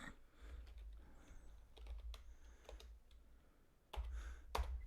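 A computer keyboard gives a few quiet, scattered clicks as shortcut keys are pressed, with two sharper taps near the end, all very faint and with no talking.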